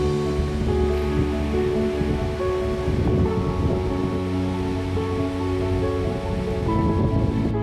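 Waterfall in monsoon season with a strong flow of water, a loud continuous roar of rushing and splashing water heard close, steady throughout with no talking.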